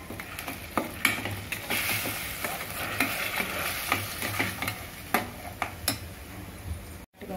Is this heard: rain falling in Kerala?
no